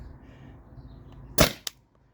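A stock Tippmann TPX paintball marker fires on a 20 oz CO2 tank through a remote line adapter, giving one sharp, close pop followed by a quieter short snap, then near silence.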